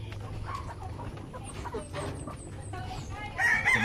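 Chickens on a backyard farm cluck and squawk repeatedly at close range, with a rooster-like call and a louder burst near the end, over steady low background hum.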